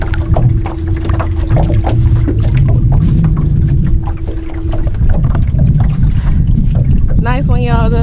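Strong wind gusts roar steadily across the microphone on a small bass fishing boat out on open water, with water sloshing and rumbling underneath the whole time.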